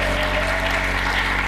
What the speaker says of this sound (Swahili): Mpe Bwana makofi mengi